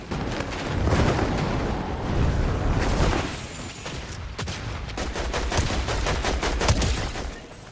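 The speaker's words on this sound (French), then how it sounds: "Ici, je découvre le tout nouveau double pompe, le fusil à pompe frappeur." Rapid, dense in-game gunfire from the new pump shotgun in Fortnite Chapter 7, a continuous loud barrage of overlapping shots and blasts over several seconds.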